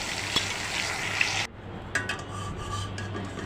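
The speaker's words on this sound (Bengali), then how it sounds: "মাছগুলো সুন্দর করে উল্টে পাল্টিয়ে ভেজে নিতে হবে।" Fish frying in a wok as they are turned over, giving a steady loud sizzle with a sharp drop after a stirring scrape, then a softer continuing crackle with light utensil scrapes.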